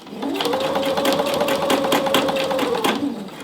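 A sewing machine stitches fabric for a shacket with a sewn-down collar, a close steady motor whir carrying a rapid needle tapping for about three seconds, running alone without talk.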